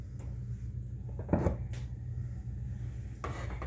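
A lid clanks onto a pot of carrots in liquid on a stove, one brief metallic knock near the middle over steady low kitchen hum, with a fainter scrape of cookware afterward.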